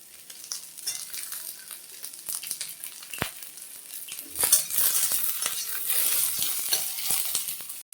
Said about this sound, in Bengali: পেঁয়াজ কুচানো দিয়ে দিলাম চারটে শুকনো লঙ্কা ফালি করা সেগুলো দিয়ে দিলাম